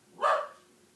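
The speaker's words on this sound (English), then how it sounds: "and a barking dog." A single short dog bark, fairly close and clear, fading quickly into quiet.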